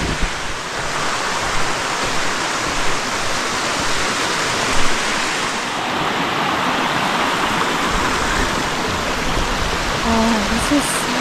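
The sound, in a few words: waterfalls of Flat Laurel Creek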